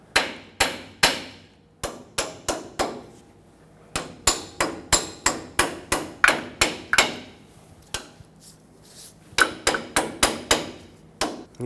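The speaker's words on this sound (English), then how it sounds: "Tap it with a hammer if needed," Hammer strikes ring out against a tie rod sleeve clamp on a 2000-2005 Ford Excursion: about two dozen sharp, close metallic taps come in uneven bursts with brief pauses, loud and clear with no talking.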